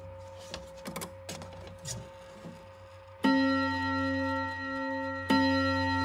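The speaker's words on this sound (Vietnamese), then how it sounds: "Các bác nhìn có thể nhìn thấy thầy tu thì đang cầm cái búa gõ chuông quá nhé" An antique clock chimes as a small monk figure strikes its bell with a hammer: faint ticks and clicks at first, then two loud, ringing bell strikes whose warm tone hangs and slowly decays.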